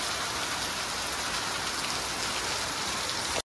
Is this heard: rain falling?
yes